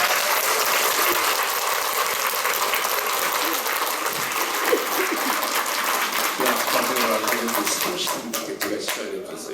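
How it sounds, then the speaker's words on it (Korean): A crowd at a Korean kindergarten association policy debate forum bursts into loud, thick applause that keeps going at full strength for nearly ten seconds, with a few sharper claps standing out toward the end. "박수는 조금 자제 좀 해주시기 바랍니다"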